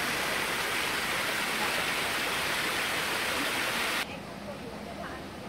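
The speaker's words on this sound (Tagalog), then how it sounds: "Tapos sa baba, mayroon siyang sapa, oh." A mountain stream in Hong Kong rushes with a steady, loud broadband hiss of flowing water that drops sharply in level near the end.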